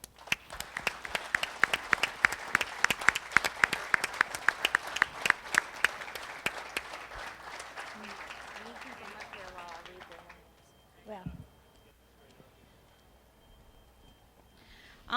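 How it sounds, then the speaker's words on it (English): A crowd at a truck driver appreciation event applauds honoree drivers for about seven seconds, sharp close claps standing out, then the clapping fades and gives way to quieter room sounds and a few scattered noises. "Let's give them a big round of applause."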